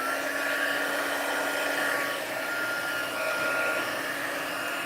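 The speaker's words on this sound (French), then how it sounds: "Pistolet chauffant." A heat gun on its second intensity setting blows hot air onto gilding flakes, making a steady, loud whooshing drone with a faint motor whine that holds for the whole stretch, alone without speech.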